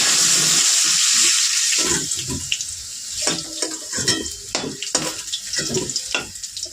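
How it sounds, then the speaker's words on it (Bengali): Two potatoes, each cut in half, go into hot oil with a loud, close burst of sizzling that fades, followed by irregular knocks and clatter as they shift in the pan. "ওই তেলেই আলুগুলো ভেজে নেব দুটো আলু দুটো করে কেটে"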